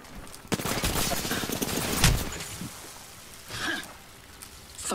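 Rapid gunfire bursts in a battle royale video game, several loud cracks and volleys with rain-like crackle, while a player speaks over the action.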